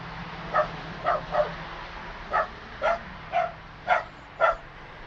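A dog barks eight times outdoors near a property, short sharp barks spaced about half a second to a second apart, moderately close and loud over faint background hum.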